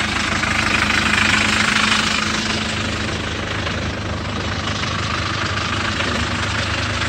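A Hyundai Porter truck engine fitted with a non-powered turbo device idles with a loud, steady, slightly knocking rumble close by, continuous throughout.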